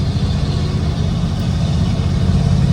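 A 1948 Ford Super Deluxe's Flathead V8 engine running steadily with a deep, rumbling low tone, loud and close, unbroken for the whole stretch.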